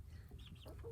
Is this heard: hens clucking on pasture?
yes